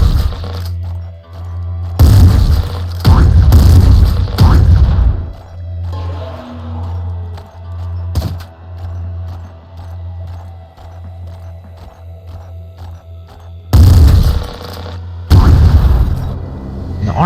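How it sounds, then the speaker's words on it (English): Corpses are smashed in the top-down shooter Nuclear Throne: loud, repeated booming bursts of gunfire and explosions arrive in clusters over a steady low game-music hum, with quieter stretches of soundtrack between the volleys. "Now if I destroy these corpses, they can't be resurrected."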